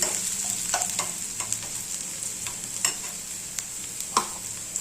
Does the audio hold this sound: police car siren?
no